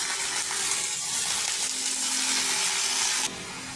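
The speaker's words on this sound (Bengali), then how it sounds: "লাউ পাতা দিয়ে ভালো করে নাড়াচাড়া করে নেব।" Fish curry with potato and bottle gourd leaves being stirred in a frying pan, giving a steady, loud hissing sizzle with faint scraping that stops abruptly near the end.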